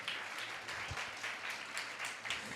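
A church congregation claps along in a steady rhythm, a dense mass of hands filling the space with fairly even beats, while voices sit faintly beneath.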